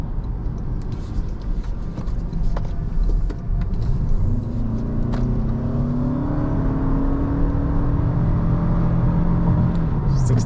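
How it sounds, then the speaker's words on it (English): A Toyota Camry hybrid accelerates from inside the cabin, a low steady road rumble with a rising motor whir that climbs in pitch as speed builds, no talk. "It does pick up speed fairly quickly."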